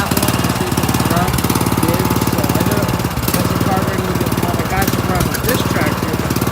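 An old lawn tractor engine with a carburetor, fired up after swapping parts, runs with a loud, rapid, rough pulsing knock that holds steady throughout, with a voice faintly underneath.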